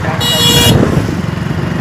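Vehicles idle and move at a busy petrol pump, with a low engine rumble throughout and a brief horn blast near the start.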